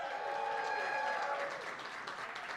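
A live studio audience applauds and cheers in a steady dense wash of clapping at a festive Monday-night show for a Green Bay Packers program, with faint tonal sounds carrying through the crowd noise.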